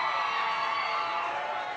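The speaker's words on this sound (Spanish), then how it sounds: "fuerte el aplauso para esta linda niña" Loud, dense applause and cheering from a crowd for a young girl singer at a televised singing contest, a steady roar of clapping and shouts sustained throughout.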